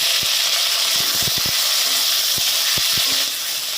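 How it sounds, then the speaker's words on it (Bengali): A few cashews sizzling in hot oil in a pan, with a steady hiss and scattered sharp clicks from a spoon or pan, close and without talk. "প্রথমে কাজুটা ভেজে নেব।"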